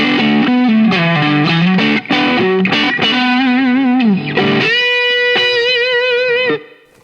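An electric guitar plays a warm, moderately overdriven lead through a Pete Cornish G-2 boost pedal with its sustain knob near the middle, the bent and sustained notes loud and close before fading out at the end.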